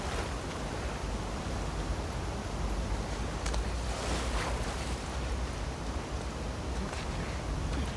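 Ocean waves surging in The Last of Us Part II during a swim toward an aquarium, a steady broadband wash of surf with heavier swells rolling through, continuous and fairly loud with no voices.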